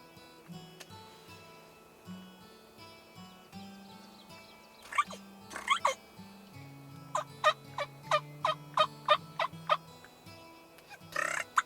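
Wild Merriam's turkey gobbling at a distance of about 40 yards, heard as a few bursts of rapid gobbles that stand out over faint background bird chirps, with no talking.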